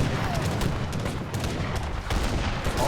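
Cannons and gunfire in an Age of Empires III Definitive team battle: a dense, continuous wash of overlapping booms and musket volleys, loud and sustained throughout with no clear gaps.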